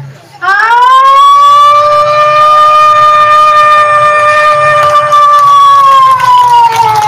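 A single human voice mimics a fire engine siren, a sustained wailing tone that rises at the start and holds steady, loud and close.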